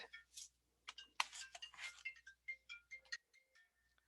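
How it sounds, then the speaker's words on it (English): A mobile phone ringtone plays as a quick, bright melodic run of chiming notes, faint and somewhat distant, with no talk over it. "Sorry, my phone is ringing."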